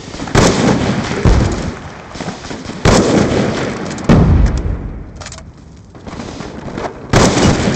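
Rapid bursts of gunfire and explosive booms from the shooter game Black Ops II, loud and close, with several heavy blasts punctuating continuous crackling fire and a brief lull near the middle.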